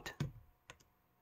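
A computer keyboard types a Linux command on a Chrome OS Flex machine, a few distinct clicking keystrokes close by, bunched at the start and then spaced apart, with no talking.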